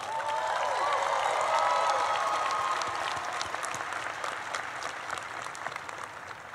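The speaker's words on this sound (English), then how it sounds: "give a warm round of applause" An audience at a university convocation ceremony breaks into loud, sustained applause, many hands clapping at once, peaking early and then tapering gradually toward the end.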